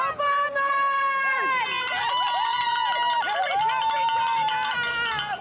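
A crowd of more than 30,000 Canadian Football League fans cheering in a stadium as the clock runs out on a title win, with loud, wavering horn-like tones and noisemakers over a constant roar.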